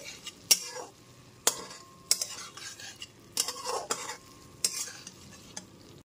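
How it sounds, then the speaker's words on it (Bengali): Okra and potatoes sautéing in spiced oil in a pan, a soft sizzle running under repeated sharp scrapes and clinks of a utensil stirring against the metal, close and fairly loud. "ভেজে নেওয়া ভেন্ডিগুলো দিয়ে দেওয়ার পর মশলার সাথে খুব ভালো মতো 2 থেকে 3 মিনিট ধরে একটু ভালো করে কষিয়ে নিয়েছি।"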